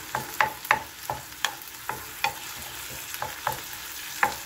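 Garlic fries in a pan, a soft steady sizzle broken by regular scraping strokes of a spatula stirring it, close up with no talking.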